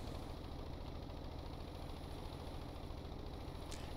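A ship engine in a video game runs steadily with the port thruster in reverse, giving a low, even rumbling drone with a faint knocking vibration throughout and no talk.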